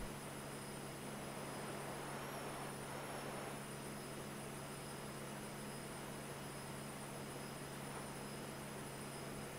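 Airplane in the video game GTA V, a constant droning engine hum with a steady high whine that wavers slightly, even in level and unbroken, with no voices over it.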